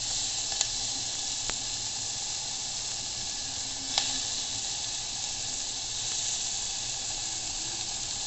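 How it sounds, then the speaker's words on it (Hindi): Onions fry over high gas heat in a pan, giving a steady broadband sizzle with a few small ticks and pops, even and moderately loud throughout. "हमारी जो प्याज है लगभग भुनना चालू हो गई है"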